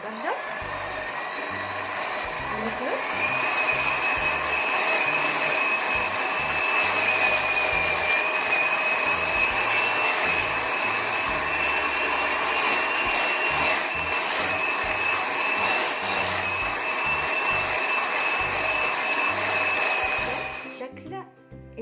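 Electric hand mixer whipping chilled cream for a Lotus cheesecake, a steady continuous motor whine with a rising pitch that holds for about twenty seconds before cutting off near the end.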